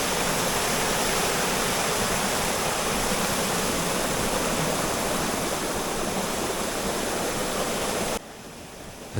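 Rushing water pours steadily through a small channel near a house after a storm, a loud, dense, unbroken wash that drops sharply in level near the end.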